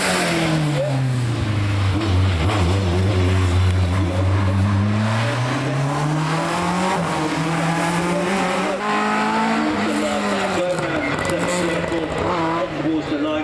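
Gould GR59 rally car climbing Prescott speed hill climb, engine note rising and sweeping through gears with strong harmonics, loud and close, continuous throughout, a voice talking over it.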